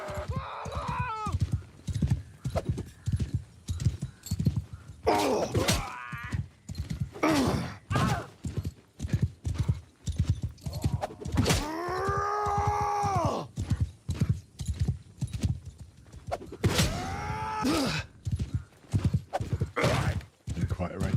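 Horse hooves clip-clop in a steady gallop in the Warsails video game, with several loud whinnies and neighs rising over the hoofbeats and clashing game sounds.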